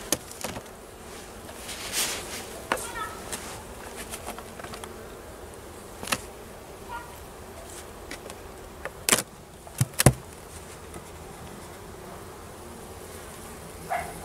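Honeybees drone steadily in an opened beehive during a winter colony inspection, a continuous close hum broken by sharp clicks and knocks of handling.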